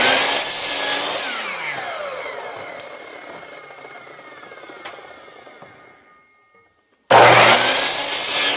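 A power saw makes a double miter cut through a wood board, a loud continuous cutting whine that slowly winds down and fades to near silence before the saw starts up loudly again.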